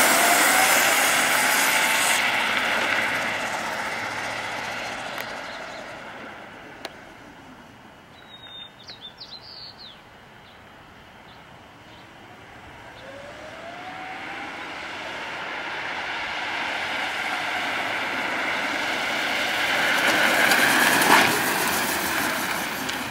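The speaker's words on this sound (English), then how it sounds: "I'm going to show the kart's acceleration with the boost button" An electric go kart pulls away from a rolling start under its boost button, a rising whine that sweeps upward as it nears and passes, fades away, then swells back loudly over faint outdoor ambience and a brief bird chirp.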